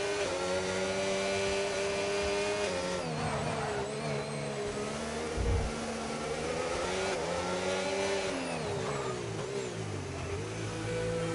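A McLaren race car engine in a sim racing game on the Monaco circuit, a steady high-pitched whine rising and falling with revs and gear changes, loud and continuous with no voices.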